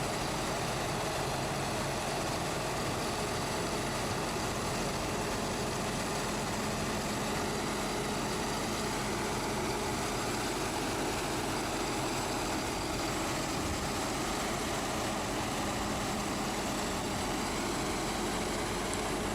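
A New Holland T8 Tier 4 tractor turns slowly and tightly, its engine a steady, broadband low rumble that stays even and unbroken for the whole stretch.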